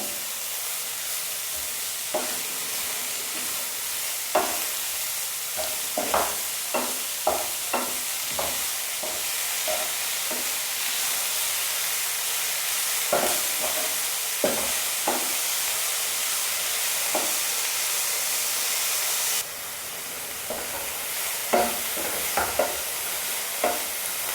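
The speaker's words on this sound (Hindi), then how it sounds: "तो इसमें सब्जी को हमें केवल उतना ही भूनना है कि इसमें क्रंच बना रहे" Vegetables for a veg spring roll filling stir-fry in a hot pan, a loud steady hiss of sizzling with intermittent sharp clacks and scrapes of the spatula, up close, no one talking.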